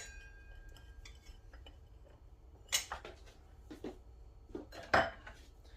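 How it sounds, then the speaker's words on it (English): Garlic cloves being crushed in a home kitchen for spaghetti puttanesca: a few sharp knocks and crunching thuds against a board, with quiet clatter of utensils before them and a louder crush near the end. "In the meantime, I'm going to crush my garlic."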